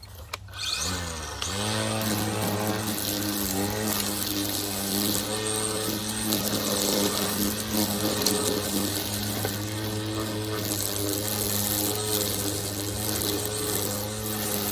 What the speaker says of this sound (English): It's easy to get in there with a weed whacker.